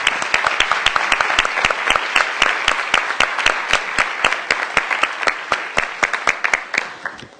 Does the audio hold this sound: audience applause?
yes